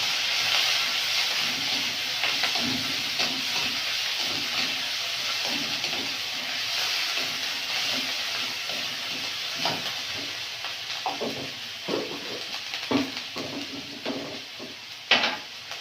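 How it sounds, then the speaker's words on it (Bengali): Onion paste and nigella seeds frying in oil, a steady close sizzle with repeated scraping and tapping of a spoon stirring the pan, growing more clattery toward the end. "দিয়ে দেবো কালো জিরে, দিয়ে দেবো পেঁয়াজ বাটা, দিয়ে পেঁয়াজটা ভালো করে ভাজা ভাজা করে দেবো।"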